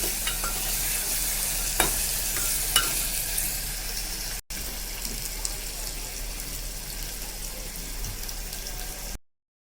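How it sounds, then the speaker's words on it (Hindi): Steady crackling sizzle of onions frying in a pan, with occasional stirring clicks, close and continuous, briefly cutting out midway. "अब इसको हम गोल्डन ब्राउन होने तक प्याज को फ्राई करेंगे"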